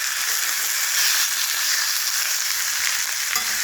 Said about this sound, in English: We're going to sear these for 2 minutes on each side.